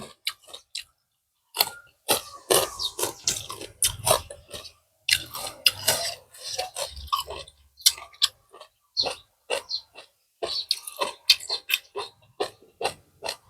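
Close, crunchy chewing of spicy Thai pounded water lettuce with beef tripe eaten with sticky rice, a quiet run of irregular wet crunches and bites with brief pauses and no talking.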